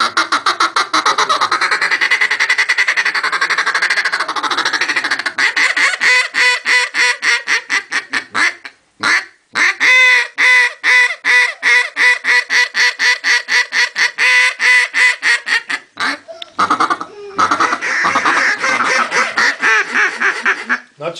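A handheld duck call blown to imitate duck quacks gives long, rapid runs of loud, close, rhythmic quacking that repeat almost continuously with only brief pauses.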